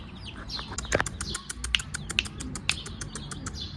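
Six newly hatched black and white chicken chicks peep in quick, high repeated chirps, several overlapping at close range with no talk.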